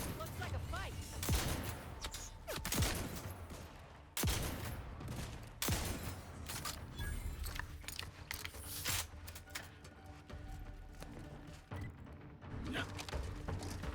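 Shotgun fire in The Outer Worlds 2, several heavy booming blasts spaced a second or two apart amid ongoing combat noise and mechanical clatter, with talking mixed in.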